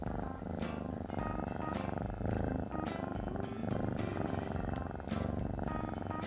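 A cat purrs in steady, rhythmic cycles, a low rumbling vibration that rises and falls with each breath, close and continuous without talk.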